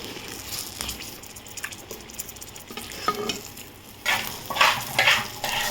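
Eggplant slices frying in a pan with lemon, a close steady sizzle with soft stirring and spatula touches, swelling into louder crackling bursts toward the end, no speech.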